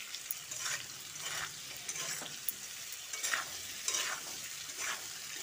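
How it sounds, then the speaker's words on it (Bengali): Potatoes with salt are stirred in a pan for a Bengali vegetable dish with ridge gourd. A faint, steady sizzle sits under soft, rhythmic spatula strokes, and no voice is heard. "নুনটা দিয়ে আলুর সঙ্গে ভালো করে মিশিয়ে দিচ্ছি।"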